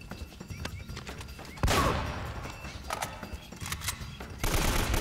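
Gunfire in the video game Uncharted, a burst of shots that hits loud and dense partway through and keeps rattling under game noise, with a second loud flurry near the end.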